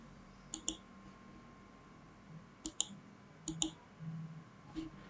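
A computer mouse clicks quietly in a still room, mostly in paired double-clicks spaced a second or more apart, with soft faint rustling between them.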